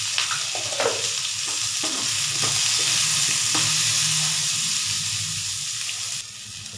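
Onions and chillies sauté in a hot pan, a steady close sizzle with a few scraping stirs across the surface, heard alone.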